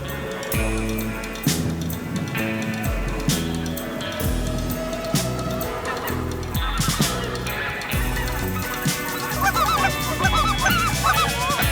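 A large flock of specklebelly geese honks continuously on a Kansas late-season goose hunt, many overlapping calls forming a loud, dense chorus that stays close and busy throughout, with no talking.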